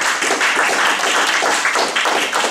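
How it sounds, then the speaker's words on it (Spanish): A church congregation claps together in praise, a dense, continuous wash of many hands close by with no words spoken over it. "Denle fuerte palmas al Señor."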